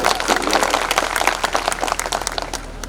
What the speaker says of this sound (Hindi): एक बार जोरदार ताली होनी चाहिए इस निज़ाम।